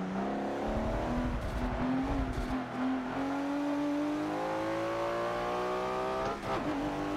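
A race car in Forza Motorsport 7 accelerates hard, its engine note climbing steadily in pitch through a gear with a brief dip near the end, loud and close with no talk.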